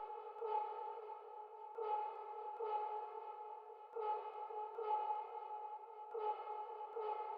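A chopped vocal sample processed with Lux Verb reverb in FL Studio, sustained tonal vocal fragments re-triggered at irregular intervals and washed in reverb, quiet and alone.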